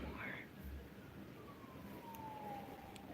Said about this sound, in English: I get so worried when I hear the police so much. Police sirens.